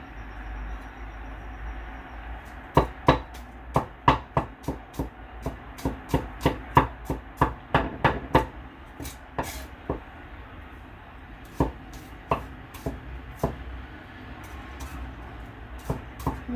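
Knife chopping ingredients for chow fan fried rice on a cutting board, a steady run of sharp close taps in uneven rhythm with short gaps, over a faint background hum.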